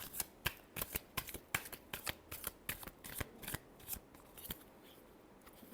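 Tarot cards being shuffled by hand, a quick rhythmic series of crisp riffling snaps and flicks, close and clear with a quiet background and no talk.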